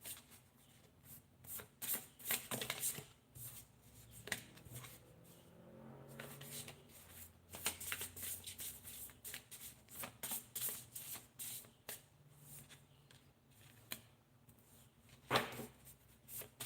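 A deck of angel cards is shuffled repeatedly, producing close, quiet riffling and flicking bursts in an uneven rhythm over the whole stretch, with no talking.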